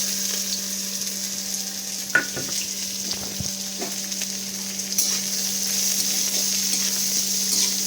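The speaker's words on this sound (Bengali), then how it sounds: "তেলটা গরম হয়ে গেছে এখানে তেলে এবার আমি পেঁয়াজ কুচিটা ফার্স্টে অ্যাড করে দেবো" Finely chopped onion sizzles in hot oil for a spicy gill dish, a continuous crackling fry with scattered pops and a few stirring clinks, steady and close.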